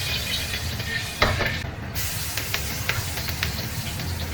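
Scallion, ginger and garlic hit a hot wok and sizzle loudly and steadily, with a few sharper spatters and scraping stirs over the continuous hiss, close by and without talk.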